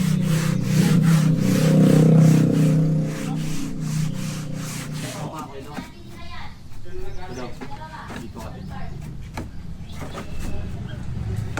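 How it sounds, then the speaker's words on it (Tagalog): Sandpaper scrubbing small melted rubber bits off a Toyota Altis dashboard; a loud, steady rubbing fills the first seconds, then lighter uneven strokes continue while a person talks throughout. "lilinisin na po natin ito, lilihain po natin ito para matanggal yung mga maliliit na rubber rice na nakadikit pa dito"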